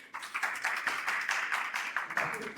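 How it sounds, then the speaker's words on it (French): A small audience claps for a departing contestant on a dating game show, a quiet, sparse patter of hands at some distance with no voices over it. "Vous pouvez l'applaudir, s'il vous plaît"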